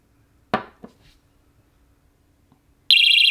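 After a couple of clicks and knocks, a loud, piercing electronic whistle tone from a Nitecore NWE30 emergency electronic whistle suddenly blares and holds steady.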